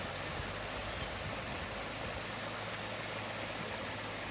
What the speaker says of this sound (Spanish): Este es el río Los Reartes.